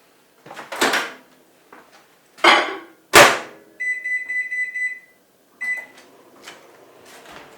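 A few clunks and door thuds, then a steady electronic tone with short beeps as a microwave oven is set and started to cook potatoes.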